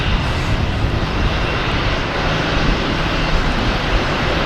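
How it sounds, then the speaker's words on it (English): JetBlue airliner coming in to land at Boston Logan Airport, a loud, close, continuous engine roar that fills the whole stretch without letup. "Loud JetBlue coming in for some action here."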